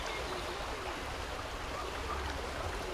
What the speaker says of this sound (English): There's a little flowing river here.